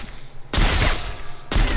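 Gunfire in the battle-royale game Free Fire, played on an iPhone 8 Plus: two loud, close bursts of shots, the second after a brief pause.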